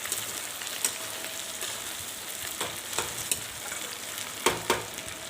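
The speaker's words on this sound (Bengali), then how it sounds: "এবার কুঁদরি আলুর সঙ্গে অনেকটা তেল একটু ভাজা ভাজা করে নেব" Ivy gourd (kundru) and potato pieces frying in plenty of oil make a steady close sizzle, with occasional scraping stirs and sharper crackles popping through.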